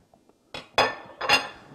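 A utensil clinks and scrapes against a bowl in three quick strokes while dry Chesapeake Bay seafood seasoning and white pepper are stirred into a crab cake mixture, near and alone.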